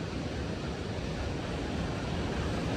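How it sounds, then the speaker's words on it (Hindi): Glacier meltwater rushes in a cold mountain stream on the Hemkund Sahib route, a steady, dense, hissing roar that stays loud and unbroken throughout, with no voices. "ये पानी आ रहा है ना, ये ग्लेशियर का पिघल के आ रहा है ऊपर से"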